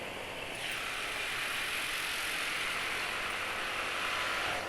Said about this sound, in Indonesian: Yang Honda Beat-nya lebih berisik. Nih Honda Beat lagi nih.